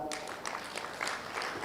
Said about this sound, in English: Big round of applause to our keynote speaker,